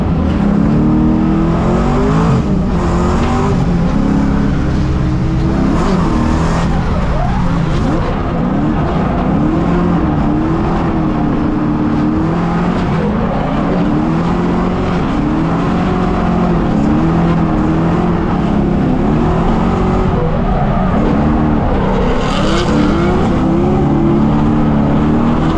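A supercharged LS3-swapped BMW E36 driven hard on a race track, its engine roaring loud and continuous from inside the car, with pitch rising and falling through repeated shifts and revs.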